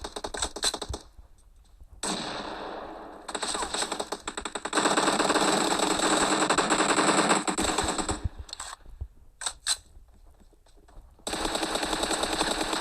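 Loud automatic gunfire rattles out in rapid bursts during an arena shooting video game, with sharp gaps of near silence between some volleys and one long sustained stretch of fire.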